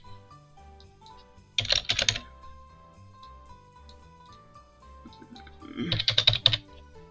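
Two short bursts of rapid typing on a computer keyboard, a clatter of keystrokes about four seconds apart, close and clear over a quiet background, while making personalized wooden family tree ornaments.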